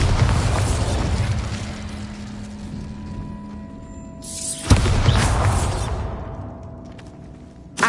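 A Bombarda blasting spell fires in Hogwarts Legacy on PS4: a loud, rumbling roar swells, then a sharp close boom hits midway and rolls off into a fading whoosh, with another brief burst right at the end.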